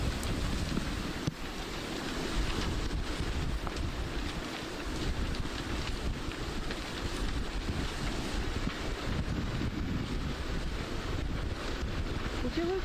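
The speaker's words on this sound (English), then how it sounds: "listen into the picture every once in a while and get a sense of how windy it is" Strong wind roars and buffets the microphone without a break at the scene of the Palisades wildfire, a dense, loud rush that covers every other sound.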